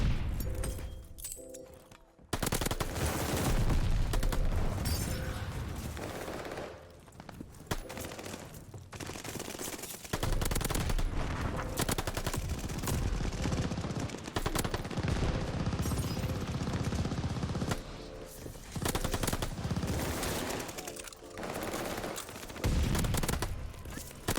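MP-40 submachine gun fire in Call of Duty Vanguard comes in loud, sustained bursts and fusillades with thumps and booms, almost continuous across the stretch, with brief pauses.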